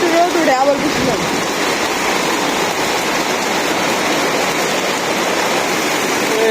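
Heavy rain pours down on a Bangladeshi village, a dense, loud, unbroken rush of water close by, with a faint voice at the very start.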